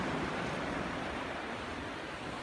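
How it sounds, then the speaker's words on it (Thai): Ocean waves wash onto Than Sadet beach on Ko Pha-ngan, Thailand, as a steady, even surf roar with no talk. "เสียงคลื่นครับ"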